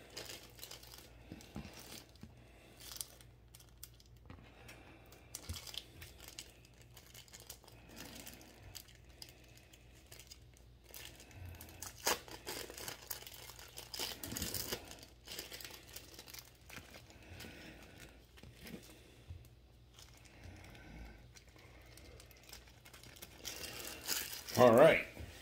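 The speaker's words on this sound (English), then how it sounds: "Now I might as well unwrap my American cheese." Plastic-wrapped American cheese slices being unwrapped for an Oklahoma onion burger, with faint intermittent crinkling and rustling of thin plastic close by, plus a few brief louder handling noises.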